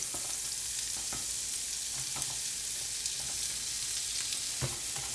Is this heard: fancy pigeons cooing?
no